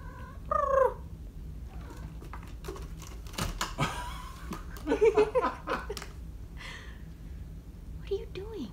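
A cat purrs close by in a low, steady rumble while people talk and murmur softly over it, with a few brief higher vocal sounds scattered through.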